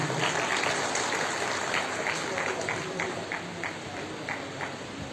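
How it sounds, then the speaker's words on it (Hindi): An auditorium audience applauds at an insurance campaign event in Chhatarpur, giving a steady wash of many hands clapping that stays dense and fairly loud for several seconds, then eases slightly toward the end. "विपिन भाई को भी एक बार जोरदार तालियों से"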